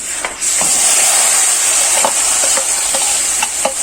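Bottle gourd leaves dropped into hot oil with fried turmeric and chili for a leaf curry, giving a loud, steady sizzle with stirring scrapes throughout.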